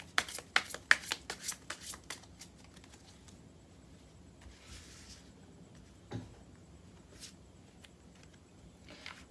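Tarot cards are shuffled close by in a quick run of crisp riffling snaps, followed by quieter card handling and faint slides.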